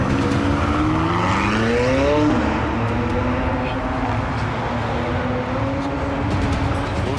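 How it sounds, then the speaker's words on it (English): A McLaren sports car drives during a film stunt chase on the set of Transformers: The Last Knight, its loud, close engine revving upward then holding a steady roar, with hints of tire noise. "We've got the McLaren working right now,"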